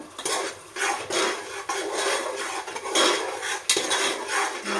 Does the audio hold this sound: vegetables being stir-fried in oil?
yes